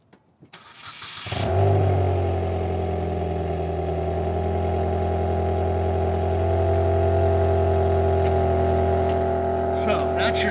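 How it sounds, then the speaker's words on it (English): Stock exhaust of a 2019 Ford Fiesta SE, a brief start-up burst settling into a steady, close idle drone that holds for about ten seconds with no talk. "So that's your stock exhaust"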